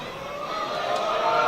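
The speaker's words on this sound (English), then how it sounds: "a few members in the crowd are doing their bit to try and distract the Currie fly half" Crowd noise at the Scottish Men's Premiership rugby final between Hawick and Currie Chieftains, a steady broad roar of spectators building slightly louder as supporters try to put off the Currie fly half.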